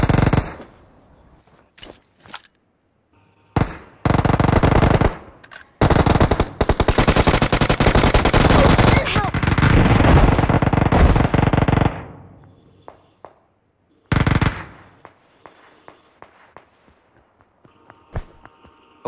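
Automatic gunfire in PUBG Mobile comes in loud, close bursts of rapid shots separated by short pauses, with one long sustained spray in the middle and a final brief burst.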